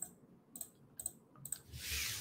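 Keyboard typing while entering a word into a customer-service chat box, a few quick separate bursts of clicks followed by a longer, denser patter near the end, with no talk.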